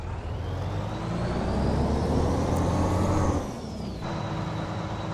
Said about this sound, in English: And let's release the handbrake.